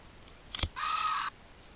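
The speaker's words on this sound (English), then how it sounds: "Yes, that is the sound of dinosaur" A bootleg D-Power Digivice toy plays a dinosaur sound through its small speaker: a brief crackly burst, then a half-second buzzy electronic screech, heard alone and close.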